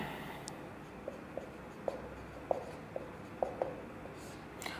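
Chalk or marker taps and scratches on a board during a Hindi lesson on Indian polity, a series of short, sharp strokes spaced irregularly and fairly quiet over a faint room hum.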